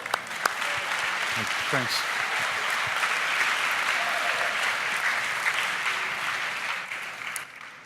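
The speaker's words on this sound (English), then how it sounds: "let's give him a round of applause" An audience applauds a pitch at a startup competition final, a thick continuous roll of clapping with a few sharp nearby claps, while a voice briefly speaks over it near the start.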